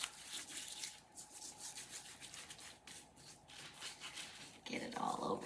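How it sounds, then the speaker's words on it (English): Hands rub avocado oil into a raw turkey, a soft, close, slick rubbing and squishing in uneven strokes that grows louder toward the end. "And then just kind of rub it in. Rub it into the turkey."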